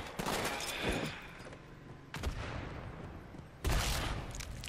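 Explosive blasts and gunfire in the Halo 2 video game, with a burst near the start, another around two seconds in and a loud grenade explosion toward the end.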